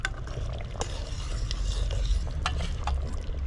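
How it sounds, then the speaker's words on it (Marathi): A spoon stirs roasted masala through cooked mutton curry in a pot over a wood-fired chulha, giving steady scraping and stirring noises with a few sharper knocks, close and fairly loud, with no voices. "हा मसाला आपल्याला व्यवस्थित मिक्स करून घ्यायचा आहे"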